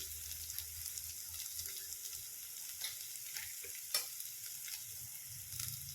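Green chilli thecha roasting in a pan with a quarter spoon of turmeric for village-style brinjal bharit, a soft steady sizzle under faint scattered scrapes and clinks, no voices.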